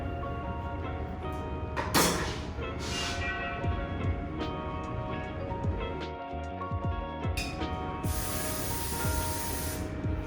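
Several short hissing bursts of hairspray from an aerosol can, spaced irregularly, with soft handling noises between them and no talking.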